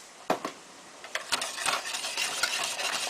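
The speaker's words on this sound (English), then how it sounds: "you still have to occasionally stir this" Sheer berenj, an Iranian rice pudding, being stirred in a pot with a utensil, close scraping and sloshing strokes over a soft simmering sizzle.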